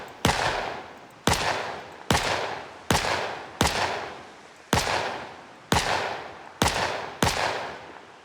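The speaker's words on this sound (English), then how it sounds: "So that's normal gunfire." Video game gunfire from Project Zomboid: eight sharp, loud single shots spaced roughly a second apart, each with a short decaying tail, and no voices.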